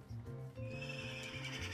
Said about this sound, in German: Ein Pferdle.